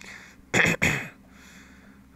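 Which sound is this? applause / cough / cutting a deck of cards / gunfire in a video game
cough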